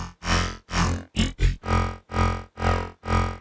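A buzzy Serum wavetable synthesizer plays a sequence of sustained notes, each with a shifting, morphing timbre, separated by short gaps in a steady pulse.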